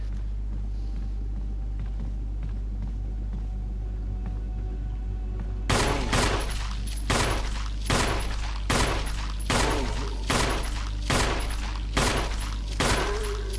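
Gunfire in the video game Resident Evil (2002) starts suddenly after a quiet stretch, then repeats as loud, regular shots roughly every second, each with a booming rumble tail, and no talk.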